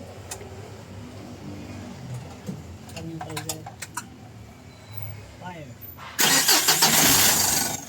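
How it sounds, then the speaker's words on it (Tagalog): Clicks and a starter cranking lead into a Mitsubishi L300 Euro4 van's diesel engine catching and running in a loud, steady roar; a voice talks briefly beforehand. "pa-start ko na kay customer itong makina"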